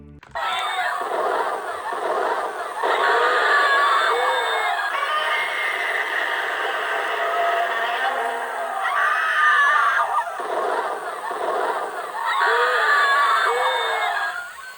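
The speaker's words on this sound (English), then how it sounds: "Did you hear those people screaming for their lives?" A Godzilla '98 toy bank's electronics play a continuous recorded crowd screaming in panic, a dense, loud, slightly tinny wall of shrieks and yells that swells in waves without pause.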